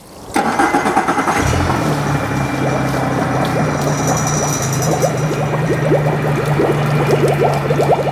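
A boat engine cranks, catches and settles into a steady, rumbling idle, running loudly and close by.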